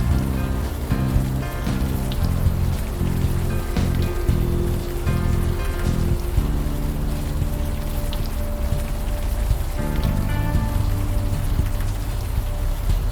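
Rain falls steadily in the point-and-click game Unavowed, a constant patter and hiss on surfaces that continues throughout, with brief tonal game sounds layered over it and no speech.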